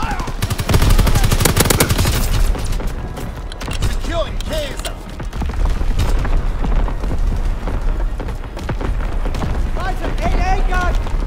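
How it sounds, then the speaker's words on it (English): Artillery battery firing in Call of Duty WW2 during V2 rocket gameplay, with loud, dense, continuous booming and rapid gunfire throughout, a voice briefly calling out over the barrage. "Firing primary battery."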